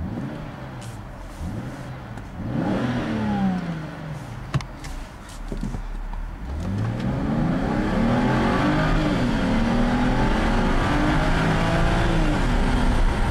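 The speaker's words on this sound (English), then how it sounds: "we're in neutral. And we're gonna give it a little rev here. Yeah, listen to that motor." A car with a 6-speed automatic gearbox, sitting in neutral, has its engine revved several times in quick bursts, then held at a louder, sustained climbing roar, close and with no talking.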